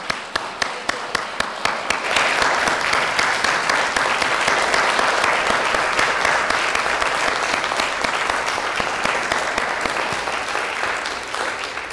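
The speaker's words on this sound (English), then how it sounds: "Can we please clap for Ale again?" A congregation applauding at a Sunday service: a few distinct claps build within two seconds into full, steady applause that carries on evenly to the end.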